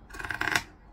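Zigzag scissors trim fabric for a bag, giving one short crisp snipping cut with rapid serrated crunches that build over half a second and then stop, close and fairly loud.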